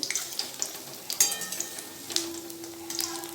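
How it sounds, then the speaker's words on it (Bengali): Gadal leaf fritters fry in hot oil with a continuous close sizzle, crackling pops scattered throughout, and a faint steady hum joining partway; no one speaks. "তো বড়াগুলো এখন গাদাল পাতার বড়াগুলো এখন ভেজে নিচ্ছি"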